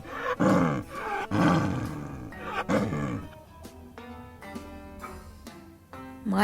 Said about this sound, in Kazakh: Ілбіс.